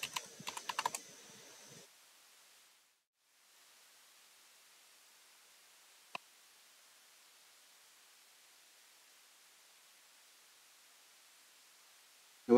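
Brief burst of rapid clicking keystrokes on a computer keyboard while typing code, close and short, followed by near silence with a single faint click later.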